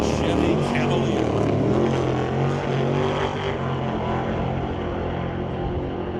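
A Chevy Cavalier drag race car launching down the track at a racing event, a loud sustained engine roar that holds steady and slowly fades as it pulls away.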